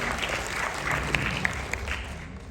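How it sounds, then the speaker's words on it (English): Audience applause at an international yoga conference in India, a steady moderate wash of many hands with a few sharper claps standing out, lasting a couple of seconds. "Let's give a big round of applause."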